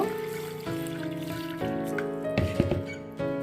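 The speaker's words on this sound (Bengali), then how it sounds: "খুব ভালো করে জল দিয়ে আমি ধুয়ে নিচ্ছি এটা" Water pours and trickles as broken wheat (dalia) is rinsed in a bowl, a close, steady running flow that shifts in pitch in stepped stages, with a few splashes partway through.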